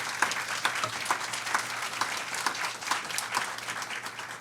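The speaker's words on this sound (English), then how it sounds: "I think that deserves another round of applause." An audience claps loudly and continuously at a school partnership announcement about scholarships, with a thick wash of many hands and a few sharper individual claps standing out.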